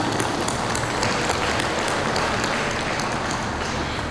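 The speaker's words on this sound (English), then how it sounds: "Let's give them a round of applause." Crowd applause at an Oakland city event honouring committee and board members, a dense steady wash of clapping that holds at even loudness for a few seconds with no speech over it.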